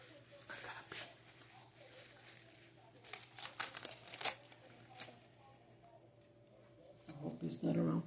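Crinkly plastic food packaging being ripped and crumpled at close range, with bursts of rustling and crackling that grow louder toward the end, under a quiet voice.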